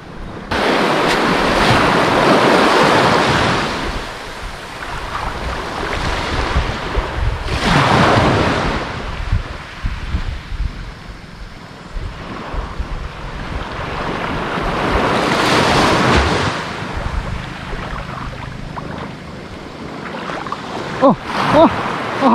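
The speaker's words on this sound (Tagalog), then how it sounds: "Malaki yung alon." Large ocean surf rolls and crashes in repeated loud swells at a fishing spot, with wind buffeting the microphone and brief excited shouts over the water.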